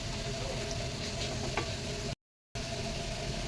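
Katla fish pieces fry in hot oil with a dense, steady crackling sizzle close by, broken by a brief gap of silence.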